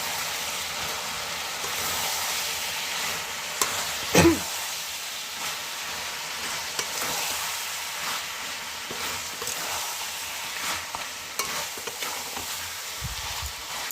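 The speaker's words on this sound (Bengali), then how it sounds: "ভালো করে সমস্ত মশলা দিয়ে লঙ্কার গুঁড়ো, জিরে গুঁড়ো, ধনে গুঁড়ো, নুন, আদা রসুন বাটা সমস্ত কিছু দিয়ে মাংসটাকে আমি ভালো করে একটু মিক্স করে নিচ্ছি।" Chicken being stirred and fried with chili powder, cumin, coriander, salt and ginger-garlic paste gives a continuous soft sizzle and hiss, broken by occasional scraping stirs and one sharper clack near the middle.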